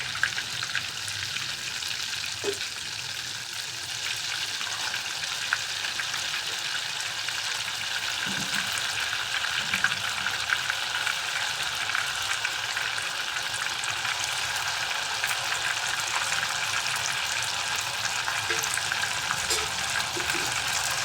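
Ghee heating on a full flame for making ghevar, a sustained, even sizzle and fine crackling bubbling that continues steadily without talk.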